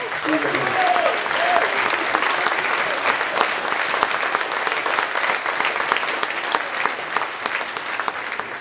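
Audience applause at a political rally in Libourne, a loud, sustained roar of many hands clapping that runs without a break, with a brief voice at the start.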